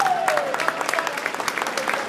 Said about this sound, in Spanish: Un fuerte aplauso para el Chaco, ¡vamos!